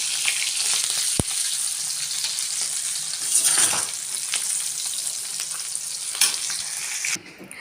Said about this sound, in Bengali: এই যে মাছ বসিয়ে দিয়েছি, কিন্তু এটা হালকা করে ভাজবো, একটু উল্টে দেবো।